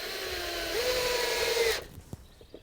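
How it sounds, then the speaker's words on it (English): A power drill drives a screw into a timber raised-bed board, one continuous whirring run of about two seconds that rises in pitch, then cuts off, followed by a few faint knocks. "We want to get the screw in and around the middle of that"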